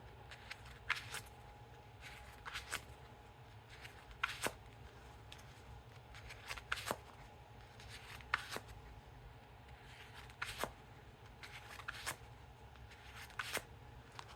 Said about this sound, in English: now time for that one-handed cut or Chevalier cut.